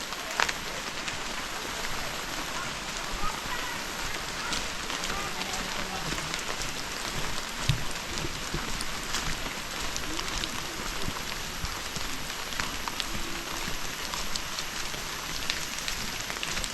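Rain falls steadily in a forest tribal village, a dense, even hiss of drops on surfaces lasting the whole stretch, with a few sharper taps and no voices.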